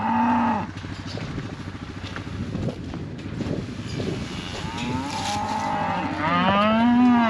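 Cattle in a field give several long, drawn-out moos, loud and near at the start and again at the end, with softer rumbling and wind noise between.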